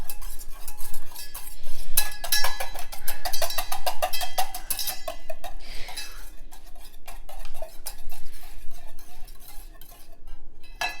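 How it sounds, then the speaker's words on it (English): Rapid rhythmic clinking of a whisk beating eggs in a bowl for an omelet, a steady metallic scraping patter that runs continuously and close, with no talking. "You take the whisk and you mix it up."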